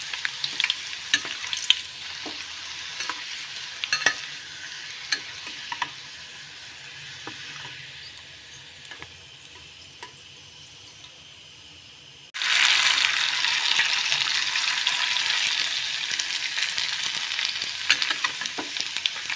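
Food deep-frying in hot oil, with scattered crackles and pops over a soft bubbling that eases midway, then surges into a loud, dense sizzle when more food hits the oil, with no speech.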